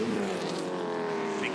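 5-litre V8 touring cars race at Winton, with an engine note sweeping past under a commentator's voice and a brief high squeal near the end.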